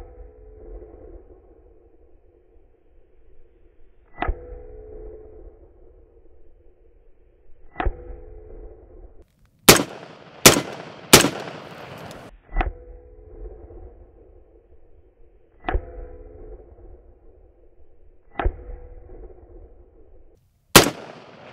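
Bimetal steel-cased rounds fired at a hard armor plate in a test, a sequence of sharp loud shots, some in quick clusters and others spaced seconds apart, with ringing tones between impacts.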